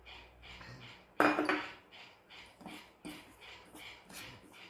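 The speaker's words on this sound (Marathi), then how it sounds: "आता मी याला हे चांगलं फेटून घेते एका डायरेक्शनमध्ये" Potato vada batter, made without Eno or soda, is beaten by hand in one direction in a bowl, giving quiet rhythmic clinks and taps with one louder clatter near the start.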